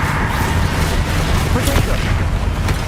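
Bombarda explosion spell cast during Hogwarts Legacy combat, a loud booming blast layered into dense, continuous battle noise with a voice shouting over it.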